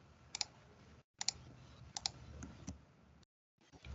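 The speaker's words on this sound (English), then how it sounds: "if I just tap on the N on my keyboard" Light clicks of a single key tapped on a computer keyboard, a few quiet taps in an irregular rhythm, close and soft, with brief silent gaps.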